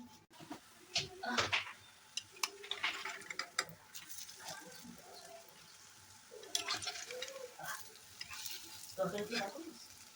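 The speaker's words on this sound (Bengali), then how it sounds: "দেখুন বড়াগুলো ভাজা গেছে" Potato fritters (aloo bora) made with rice flour fry in oil with a soft, ongoing sizzle and repeated crackling bursts and clicks from turning them, while voices murmur faintly in the background.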